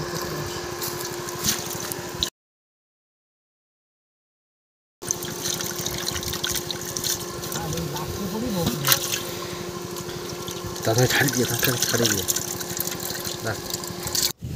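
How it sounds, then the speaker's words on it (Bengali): A water pump drains a pond in a field in the Sundarbans, giving a steady droning hum with running, splashing water throughout and a short silent gap; people talk over it. "আমাদের মাঠের পুকুর সেচা হচ্ছে"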